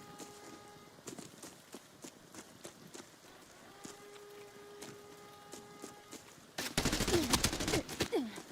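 Gunfire in the video game Arena Breakout Infinite, scattered single shots and short bursts at moderate distance, followed by a loud sustained stretch of close rapid firing with heavy rumble.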